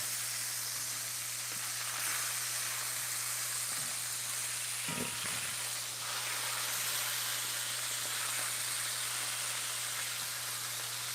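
Lamb chops searing in a hot pan give a steady, even sizzle and hiss that runs the whole way through at moderate level, with a constant low hum beneath and no talking.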